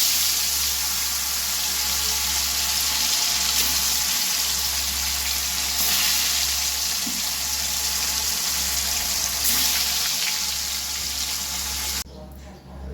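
Eggplant sizzles steadily as it is lightly fried in oil in a pan while cooking Bhetki fish curry. The hiss is loud, close and continuous for about twelve seconds, then drops away abruptly near the end.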